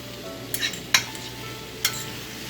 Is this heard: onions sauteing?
yes